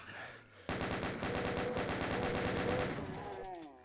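Chaingunner enemies firing in a Doom map, a sustained rapid chatter of machine-gun shots lasting about three seconds, loud and steady, with game effects trailing off afterward.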